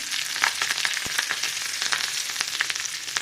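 Green chillies fry in a ghee tempering with cumin, giving a steady close sizzle dotted with small crackles and pops, no voices.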